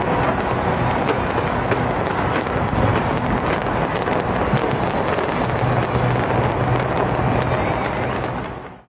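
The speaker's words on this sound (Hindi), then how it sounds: "साल नौ की आमद पर दुनिया की सबसे बुलंद इमारत बुर्ज खलीफा पर शानदार आतिशबाजी के मुजाहिरे पेश किए गए।" New Year fireworks over the Burj Khalifa, a dense, continuous roar of bursts and crackle filling the air at close range, unbroken for several seconds before cutting off.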